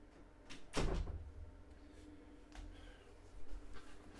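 A door swings open to let a small dog inside, giving one loud knock-and-thud near the start, then soft rustles and faint scrapes as it settles, close by in a quiet room.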